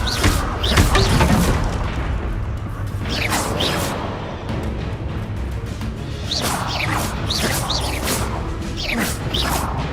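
Confringo fire spell blasts in the Hogwarts Legacy game, heard as loud repeated booming bursts and whooshing streaks over a dense, continuous din of spell combat throughout.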